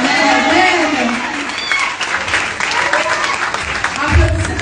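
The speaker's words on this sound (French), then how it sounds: "Applaudissez encore s'il vous plaît." Audience applause at a graduation ceremony for École Tyrannus in Douala, a broad wash of clapping that swells and fades beneath a person talking loudly over it.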